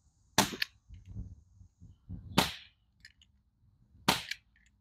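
Three sharp air gun shots fired at a Samsung screen, each a loud crisp crack about two seconds apart, with quieter shuffling and rustling between shots.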